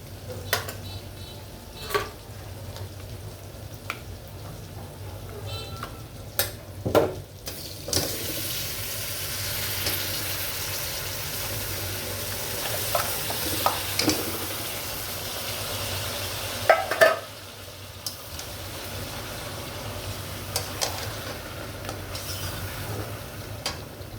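Fried onions and potatoes sizzle steadily in a pan as more ingredients are poured in for a wedding-style beef rezala, with scattered stirring clatter and a brief louder pour, no voices.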